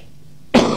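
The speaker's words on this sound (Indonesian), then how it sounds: "batuk segini aja takut nanti semua" A single sharp cough from a person bursts out after a quiet pause and trails off briefly, close and fairly loud with no speech.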